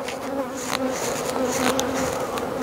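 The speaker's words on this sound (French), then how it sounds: "Donc ça, les abeilles." Honeybees buzz at a hive, a loud, close, continuous droning hum with individual bees whirring past near the listener, no speech over it.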